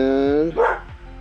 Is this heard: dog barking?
yes